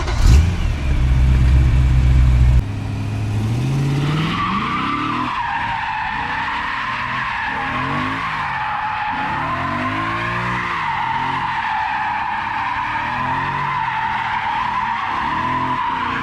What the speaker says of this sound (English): let's go ahead and do some donuts, some figure eights, some smoke shows